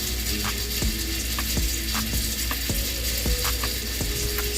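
Vegetables for a triple meat chili fry in a small pan, a steady sizzle with sharp utensil clicks and scrapes against the pan at a fairly regular pace, close and alone with no talk.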